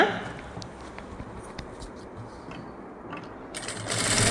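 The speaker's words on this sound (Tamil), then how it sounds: "பக்கம் பக்கமாக மூணு தையல் போட்டுட்ருக்கேன்" A sewing machine stitching a blouse seam runs in a continuous fast mechanical whirr with soft ticking, close and steady, picking up slightly toward the end.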